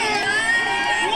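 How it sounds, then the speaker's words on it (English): A jubilant crowd in South Korea cheers and shouts in a dense, continuous roar, loud and close, with high excited voices blending together throughout. "The crowd cheering in joy"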